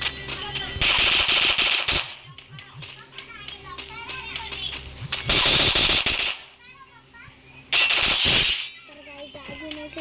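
Loud bursts of automatic gunfire from a shooting video game erupt three times, each lasting about a second, with a voice talking between the volleys.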